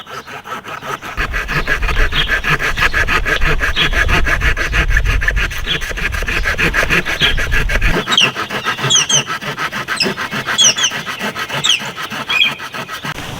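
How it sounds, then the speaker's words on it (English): A small multitool saw blade cuts through kiln-dried firewood in steady back-and-forth strokes, close and loud rasping that keeps a regular rhythm throughout. "So here is the saw doing a little sawing."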